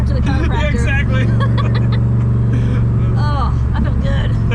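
A Ford GT40 replica's engine during a ride-along, a loud, close, steady low drone that runs through the whole clip beneath excited talking and laughter.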